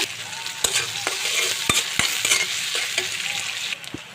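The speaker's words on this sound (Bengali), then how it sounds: "তো আমার পেঁয়াজটা একটু আমি ভাজা ভাজা করে নিয়েছি" Chopped onion fries in a pan with a steady broadband sizzle, broken by sharp clicks and scrapes of stirring at irregular intervals, close and fairly loud, with no voices.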